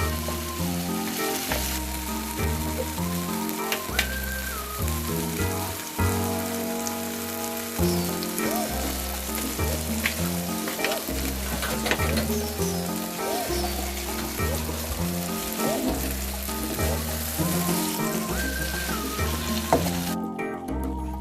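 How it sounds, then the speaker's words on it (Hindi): King prawns fry in spicy chilli masala, a steady, close sizzle and crackle like rain on a surface, with occasional stirring and background music throughout. "प्रॉन्स डालने के बाद इसे मैंने जो है भूना है 5 से 6 मिनट"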